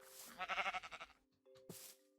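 Sheep in the video game Minecraft bleating while being sheared: a wavering bleat up close, then a click and another short bleat, with no talk.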